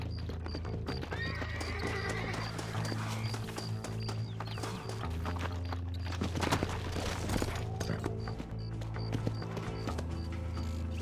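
Horses gallop and whinny during a chase in the Red Dead Redemption video game, with constant clip-clop hoofbeats under several loud neighs and a busy layer of game ambience.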